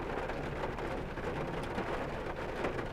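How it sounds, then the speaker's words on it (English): Heavy rain pouring steadily during a thunderstorm, a dense, even roar of falling water with no breaks, moderately loud and continuous. "And here comes the heavy precip again."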